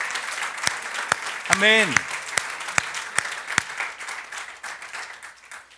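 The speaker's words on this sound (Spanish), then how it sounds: "Dele ese aplauso fuerte al Rey." A church congregation applauds steadily with sharp, rhythmic claps during a sermon, while a voice briefly calls out over the clapping.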